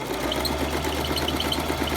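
Sewing machine stitching the seam of a fabric face mask, a close, steady rapid mechanical whirr and chatter running without pause for the whole moment, with no talk.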